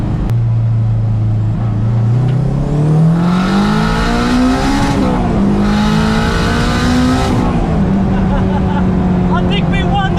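A Honda Civic racing an Audi RSQ3 with a 2.5-litre, 400 bhp four-wheel-drive engine and seven-speed automatic; a loud, close engine roars and climbs steadily in pitch under hard acceleration, dipping briefly at gear changes before climbing again.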